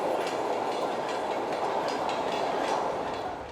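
A new Berlin U-Bahn JK series train rolls along the rails during delivery, a steady broad rumble with faint rhythmic wheel clatter, close and continuous before easing slightly at the end.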